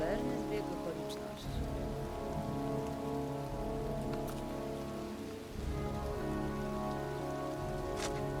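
Steady rain in Heavy Rain patters continuously on surfaces, with a low droning hum underneath and a couple of brief soft swells.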